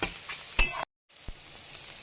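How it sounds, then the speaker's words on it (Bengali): Banana stem (thor) fries in a pan with a crackling sizzle and clinks of a spatula, broken by a short cut to silence before the quieter frying hiss resumes, no voices. "এরকম করে থোরটা ভেজে নেবে"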